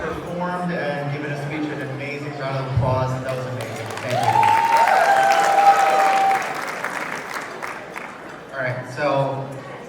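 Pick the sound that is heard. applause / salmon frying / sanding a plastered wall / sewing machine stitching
applause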